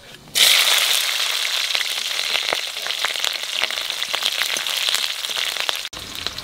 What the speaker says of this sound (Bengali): তেলের উপর দিয়ে দেবো কালো জিরে, আর দেবো কটা কাঁচা লঙ্কা।